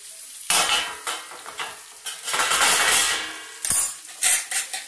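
Masala roasting in a pan, stirred with bursts of bright sizzling and scraping, metal utensil clinks and knocks against the pan, close and loud in uneven strokes, with no speech.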